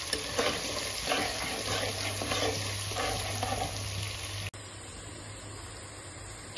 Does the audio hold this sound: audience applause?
no